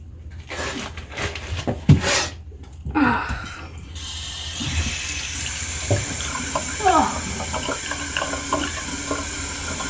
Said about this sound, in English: a little bit of water ASMR.